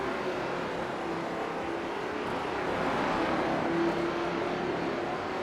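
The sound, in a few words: race cars racing on a track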